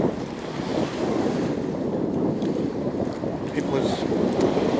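Surf at Punta Sur beach in Cozumel, a continuous rushing wash of waves mixed with wind buffeting the microphone, moderately loud and steady with faint distant voices.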